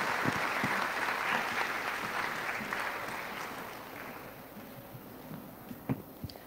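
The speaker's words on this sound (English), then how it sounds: "A round of applause" A school moving-up ceremony audience applauds to welcome a speaker, dense clapping that starts loud and gradually thins out, with a few isolated claps near the end.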